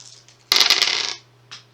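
A handful of six dice tossed onto a table during a Shadows of Brimstone board game, a sharp rattling clatter lasting under a second followed by a faint final tap.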